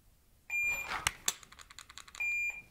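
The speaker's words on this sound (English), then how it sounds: "judging by when the second beep went" A shooting shot timer gives two sustained electronic beeps, one at the start and one near the end, with sharp trigger clicks from six quick presses between them.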